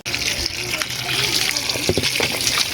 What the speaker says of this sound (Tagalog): bubuhusan agad natin siya ng malamig na tubig